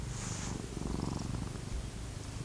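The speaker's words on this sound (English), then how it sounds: "For those of you that don't know, this is my cat, Shadow." Domestic cat purring up close, a continuous low rumbling vibration that holds steady throughout with no voices.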